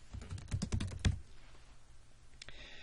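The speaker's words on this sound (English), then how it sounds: "we need to find the client by typing Load Fake into the search bar" Fingers type on a computer keyboard into a search bar, a quick close burst of clicking keystrokes followed by a near-silent pause and a couple of faint final taps.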